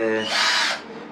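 A newly unboxed power drill spins up close and loud, a short whining burst that rises in pitch and then cuts off.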